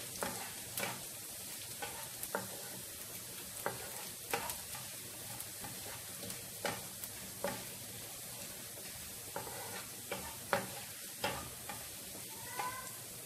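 Chopped onion, garlic and ginger sautéing in a pan for tomato rice, making a soft, continuous sizzle broken by repeated scraping taps of a spatula stirring at an irregular rhythm, with no talking.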